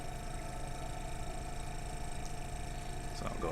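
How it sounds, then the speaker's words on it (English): A hobby airbrush air compressor runs with a steady, low mechanical hum and slight vibration, constant and fairly quiet from start to finish, with no talking. "So I'll go ahead and turn off my compressor."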